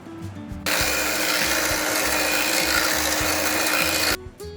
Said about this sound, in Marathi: इथे अमूलचं फ्रेश क्रीम घेतलंय दोनशे पन्नास एम एल आहे आता हे फेटून घेऊया आपण